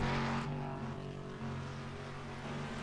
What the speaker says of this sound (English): really hearing him get out of the gas as he came through that short chute